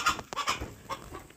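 Chickens clucking in short, close bursts at a home butter-making session, a few brief calls scattered over a quiet moment with no talk.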